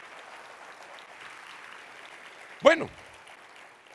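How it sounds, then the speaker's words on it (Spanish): A church congregation applauds, a steady low wash of clapping that carries on under a single loud burst from a voice, and it holds at a moderate level throughout. "denle otro aplauso al Rey"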